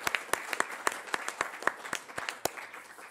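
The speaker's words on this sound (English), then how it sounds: "So round of applause to all of our teams" Auditorium audience applauding the competing teams at a university startup competition: a brief, moderate burst of scattered hand claps, fairly distinct individual claps rather than a dense roar, heard from a modest distance.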